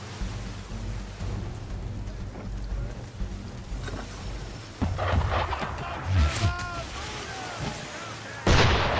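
Ship cannons fire during a rainy battle scene in Assassin's Creed 3, with several heavy booms and crashes breaking through steady rain noise while voices talk.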